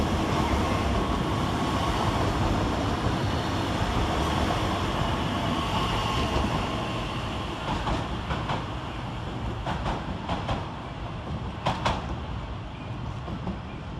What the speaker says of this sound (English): Trundling around the corner 6 minutes late is 397004, working 1 Bike 96 from Glasgow Central to Manchester Airport.